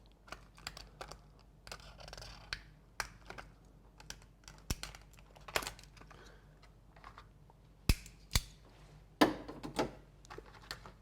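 Plastic packaging rustles and clicks as a headlight bulb for a Subaru Impreza is taken out, soft crinkly scratching with scattered sharp snaps, close and fairly quiet, with no talking.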